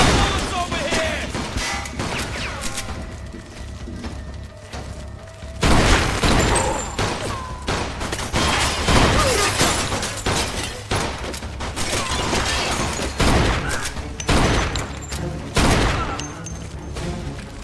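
Gunfire in the video game Mafia 2, sustained bursts of shots with booms and crashes across the whole stretch, loud and close, with a voice talking under it at times.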